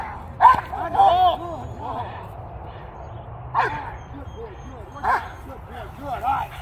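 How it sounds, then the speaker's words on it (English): A dog makes short barks and yips, heard in several bursts spaced across the clip with low rumbling between them, while people talk over it during work with a trainer. "You see that aggression there, that growl, that's real."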